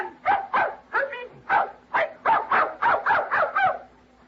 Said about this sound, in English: That's a dog? It's canine.